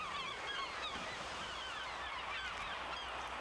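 Murres and kittiwakes crowd a dense seabird colony on Green Island, Newfoundland, their overlapping honking and squealing calls forming a constant faint chorus with no single bird standing out.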